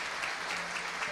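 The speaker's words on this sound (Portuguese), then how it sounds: "Cadê as palmas para Jesus Cristo" Congregation at a church service clapping for Jesus Christ, a brief, dense and even burst of many hands close around, with a faint voice beneath.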